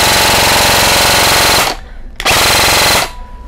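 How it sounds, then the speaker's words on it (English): A Lancer LT30 Tactical Enforcer airsoft rifle firing two loud, rapid full-auto bursts, the first about a second and a half long and the second slightly shorter, with a buzzing motor-driven rattle and a brief pause between them. "I don't know if you can hear your motor, pero I'll try po, ipuputok ko siya."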